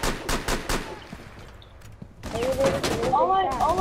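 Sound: gunfire in Rainbow Six Siege video game

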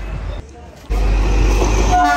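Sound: train at Nangloi railway station

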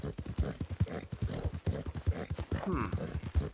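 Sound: horse hooves clip-clopping in video game RedM

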